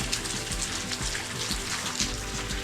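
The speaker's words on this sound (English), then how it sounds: "Just the serenity of the water flowing." Water in a stream at a state park flows and trickles steadily, a continuous close wash of sound with no voices.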